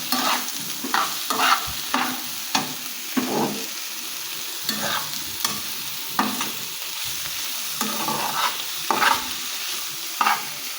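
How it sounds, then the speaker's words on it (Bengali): Teasel gourd with onion and green chili frying in a pan, with steady sizzling and repeated spatula stirring scrapes in an uneven rhythm, close and alone without talk. "আর একটু সময় আমি ভাজা করবো"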